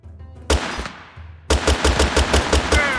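Gunfire in the video game Totally Accurate Battle Simulator, with a single loud blast followed a second later by a rapid, steady burst of shots like a machine gun, close and dominant.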